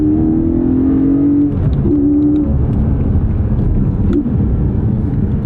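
A Porsche 718 Cayman GTS 4.0 flat-six revs up and is short shifted, rising engine tones dropping at each gear change, loud and close from inside the car.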